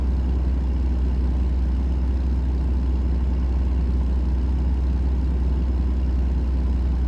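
A car engine in a driving video game burbles continuously, a loud, deep, even low-pitched drone with no break or change in pace and no voices over it.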